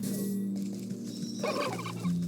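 Turkeys in the video game Wytchwood give a loud, rapid gobbling burst close by, a short rattling call over steady game background sound.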